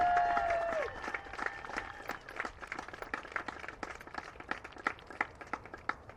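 Scattered audience applause for a senior athlete at a Puget Sound versus Whitman college game, sparse claps building into a steady patter after a brief tone, moderately distant.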